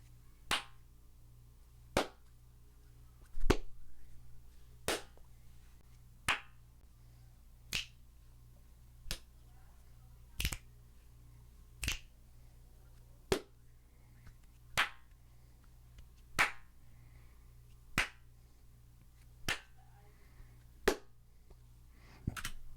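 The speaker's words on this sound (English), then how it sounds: "We're just going to record, and I am going to record some claps in." Single hand claps recorded for music production, sharp isolated claps spaced about every one and a half seconds in a quiet room, sixteen or so in a steady, even rhythm.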